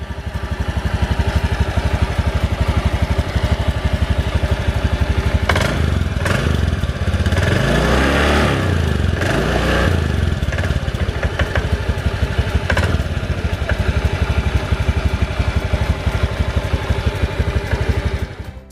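An older Honda Beat Street scooter engine runs close by, a steady buzzing idle with mechanical clatter and a few brief revs in the middle, with no talking.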